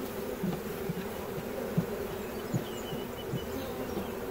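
Honey bees buzz steadily around a swarm trap outdoors, a continuous close drone with individual insects flying past and brief louder passes near the listener.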